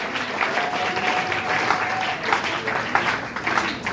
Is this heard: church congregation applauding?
yes